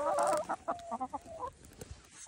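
Chickens clucking close by in a quick, uneven series of short calls, one louder burst at the start followed by scattered clucks over quiet background.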